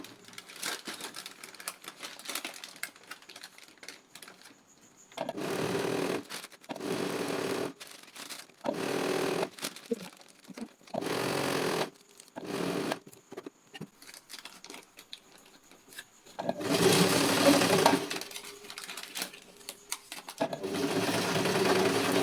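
Sewing machine stitching a skirt, loud bursts of rapid mechanical stitching separated by short quiet pauses, close up with no talking.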